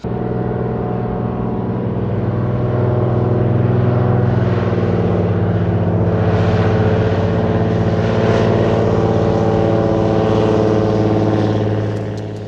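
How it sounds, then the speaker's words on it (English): Propeller seaplane engine droning loud and close at Lake Hood in Anchorage, a steady harmonic hum that swells slightly and holds for the whole stretch with no talking. "You've got Lake Hood just here, seaplanes coming and going"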